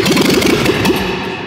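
Fire-damaged car engine cranking and catching without the choke, running rough and uneven with a rapid sputtering, pulsing rhythm, loud and close, then settling into a steadier idle.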